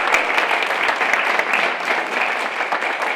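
A school board meeting audience gives a steady round of applause for an elementary division award winner, dense clapping filling the room without a break.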